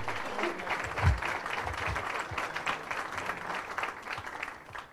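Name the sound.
warm round of applause from chamber members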